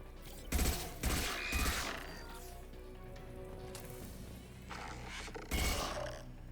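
Gunshots ring out in Mass Effect 2 combat, loud separate bangs in short clusters over a steady rumbling background, with a voice calling out between them.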